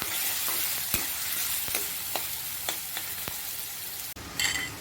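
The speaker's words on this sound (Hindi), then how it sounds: "प्याज को हिलाते हुए अच्छा गोल्डन ब्राउन होने तक हम लगातार भूनेंगे।" Onions frying in hot oil in a kadhai until golden brown, a steady close sizzle broken by regular scrapes of a stirring spoon, with a louder clatter near the end.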